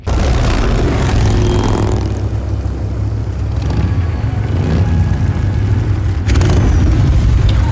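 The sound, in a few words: aircraft in video game Gears of War 4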